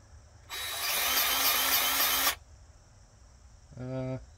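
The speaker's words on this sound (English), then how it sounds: "I don't know how much grease to give it, but I'm sure a couple pumps will be good enough." A grease gun pumps grease into a truck spindle on a 1987 Freightliner cabover with a Cummins engine, giving one loud, rough, nearby burst of mechanical hissing that lasts nearly two seconds before stopping, followed by a brief voice.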